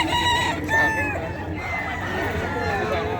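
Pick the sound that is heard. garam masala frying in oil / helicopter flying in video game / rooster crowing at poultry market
rooster crowing at poultry market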